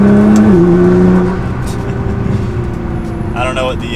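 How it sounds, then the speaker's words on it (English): A Nissan GT-R with a Stage 2 tune accelerates hard from second gear, its engine tone climbing and then shifting down into a steady loud drone, with a shift-like drop and fainter mechanical sounds near the end. "So we'll do like a mid acceleration from second gear."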